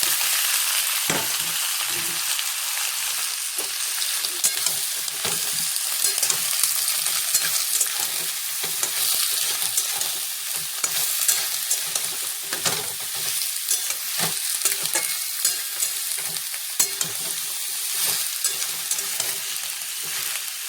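Vegetables and dried chillies frying in hot oil for Bengali chorchori, a loud dense crackling sizzle that runs continuously for the whole stretch, with scattered pops and spoon clinks against the pan, close up.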